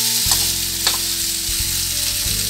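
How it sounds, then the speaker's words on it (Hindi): Potatoes and broccoli frying on full flame, a loud, steady sizzle close by with a couple of sharp spatters and stirring scrapes. "आलू और ब्रोकली मैं इसमें ऐड कर दूंगी। इसको अच्छे से मिक्स करेंगे। अब हम इसको 2 मिनट के लिए ऐसे ही फ्राई करेंगे"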